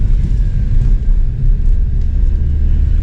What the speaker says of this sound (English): The turbo noises are like deeper and throatier.